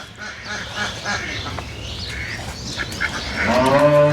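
Dairy cows on a farm give low moos, and one clear bellow rises near the end. Other background animal calls and ambient farm noise surround them.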